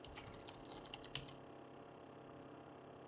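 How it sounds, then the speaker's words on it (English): Typing on a computer keyboard while entering a place name into a search box in spreadsheet software, heard as a quiet run of light, irregular clicks alone in the clip, with one sharper keystroke standing out. "So I'll type in Liverpool into the box."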